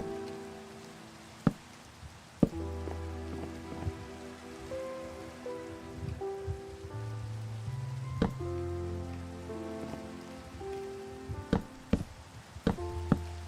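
Rain falls steadily in a Minecraft-style hardcore survival game world, a continuous patter with occasional sharp ticks and clicks, while soft tonal game music plays underneath and no one speaks.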